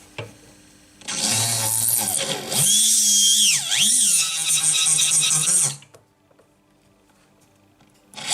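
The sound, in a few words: rotary tool with shaping burr grinding a pendant hole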